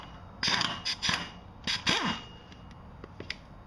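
A ratchet clicks in several short bursts, close and fairly loud, as it cinches down spring-loaded bolts on a Honda HRC216 commercial lawn mower engine during an engine replacement; no one speaks.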